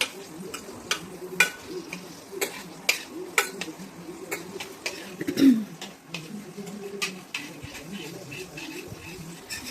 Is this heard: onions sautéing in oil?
yes